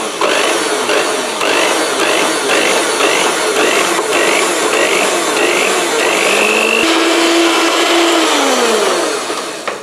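An electric hand mixer beats white chocolate cookie dough with the dry ingredients just added, a steady loud motor whine that runs throughout and shifts pitch slightly near the end.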